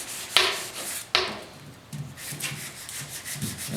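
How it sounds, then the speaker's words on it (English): Sandpaper rubbed by hand with a light touch across the tailgate of a 1972 Ford 4x4 pickup truck, making close, rasping back-and-forth strokes, two sharper swipes early and softer rhythmic passes after. "Seems like if you just got a real nice light touch, let the sandpaper do the work."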